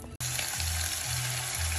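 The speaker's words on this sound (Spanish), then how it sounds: "¿Qué hace Pelucona ahora? Friendo carne. Friendo su carne." Meat sizzles and crackles in a hot pan for arroz chaufa, a loud continuous fry heard up close after a brief silent gap, with low background rumbles and no speech.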